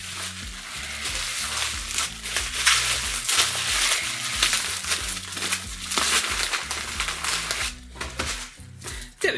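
Crinkling and crunching of plastic wrap being cut open on a movie package, continuous close rustling with sharp snaps and tearing, loud and alone without voices.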